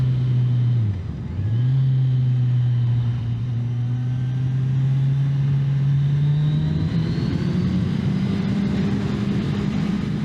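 A Kawasaki Z1000SX motorcycle on Michelin Road 6 tyres rides a damp, wet road, its engine a steady close drone with a brief dip near the start, then slowly rising revs under continuous wind and road noise.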